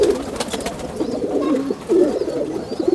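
Large pigeons coo in low, rolling phrases, close by and steady, with no one speaking over them.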